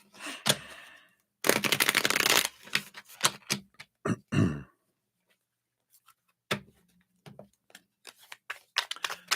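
Crisp bursts of playing cards being shuffled and riffled, several quick flurries separated by pauses, close and fairly quiet.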